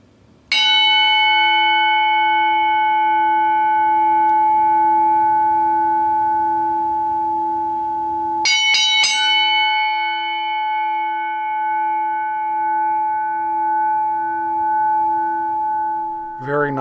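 An antique brass boxing bell is struck with an old wooden screwdriver, giving one loud, bright clang that rings out with a long, steady sustain. A quick cluster of three further strikes follows, and the ringing carries on afterward.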